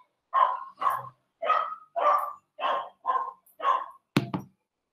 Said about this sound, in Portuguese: tem muito cachorro aí passando no meio da rua